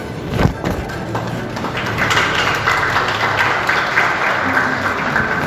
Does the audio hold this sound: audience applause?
yes